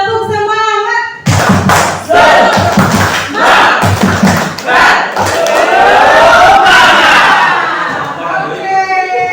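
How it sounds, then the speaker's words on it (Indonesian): An audience of teachers at a school dissemination session does an Indonesian rhythmic spirit clap (tepuk semangat), loud patterned clapping in bursts with shouts and chanted voices, bracketed by short electronic tones at the start and end. "Oke, kita tepuk semangat dulu."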